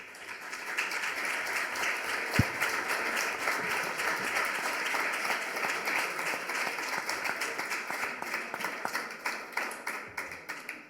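Audience applause after a talk at a round-table panel session during a professions day event, steady dense clapping from a room of people sustained for about eleven seconds with no talk over it.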